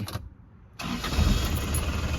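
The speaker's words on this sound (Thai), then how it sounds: "เดี๋ยวเราสตาร์ทฟังเสียงเครื่องยนต์กันนิดนึงนะครับผม" An Isuzu TFR pickup truck's engine, a 1996 model, cranks and catches, then settles into a steady, rumbling idle close by, with no talking.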